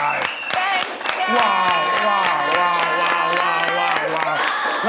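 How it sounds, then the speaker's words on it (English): Studio audience applause and cheering for the host at a talk show's season finale, a dense, steady burst of clapping mixed with whoops and excited voices throughout. "Come on, let's give her a round of applause, guys."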